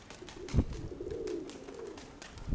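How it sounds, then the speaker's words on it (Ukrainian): Mykolaiv pigeons give a soft, rolling coo that runs steadily through the moment, fairly faint and close, with a couple of light thumps or wing taps and no talking. "Але це теж миколаївські голуби."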